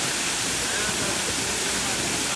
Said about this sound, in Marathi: सर्वात स्वच्छ आणि चांगलं पाणी या छोट्याशा वॉटरफॉलला येतोय, म्हणजे धबधब्यावर.